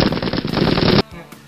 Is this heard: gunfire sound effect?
yes